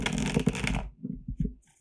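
Tarot cards being shuffled by hand, a brisk papery riffle and shuffle up close for the first part, then quieter soft card taps and slides.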